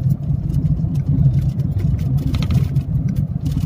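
A car engine hums steadily while driving, with a low, even rumble and some light road noise. It stays loud and close throughout, with no talking.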